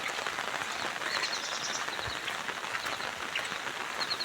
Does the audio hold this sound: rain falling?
yes